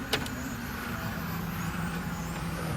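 Touring cars racing down the back straight in a Spec TC main event, a steady, moderately distant engine drone with a brief sharp hiss near the start.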